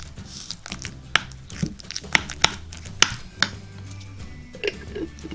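A spoon stirs sugar into a sticky kalamay mixture, knocking against the pot in a run of close, irregular clicks and scrapes with soft rustling between them.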